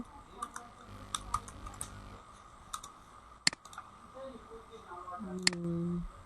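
Typing on a computer keyboard: scattered key clicks in short bursts with pauses, close and fairly quiet, ending in a low tonal hum.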